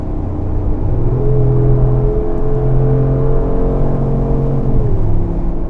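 A Mercedes-Benz G-Class with a 585-horsepower engine revs hard while accelerating, a loud, steady engine drone that climbs and holds in pitch inside the cabin and stays continuous throughout.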